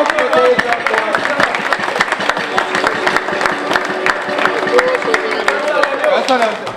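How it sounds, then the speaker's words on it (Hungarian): Wedding guests clapping together in a hall, a steady dense wash of applause over a crowd murmur that keeps going for several seconds. "hanem akkor egy tapsot mindenkitől"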